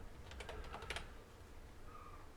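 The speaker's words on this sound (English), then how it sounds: "I'm typing off screen" Quiet typing on a computer keyboard at a desk, a quick flurry of several key clicks followed by a pause and near silence.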